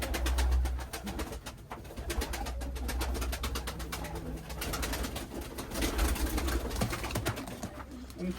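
Pigeons kept as performance play birds coo repeatedly, steady and close, with soft rustling and fluttering among the birds, and no talking over them.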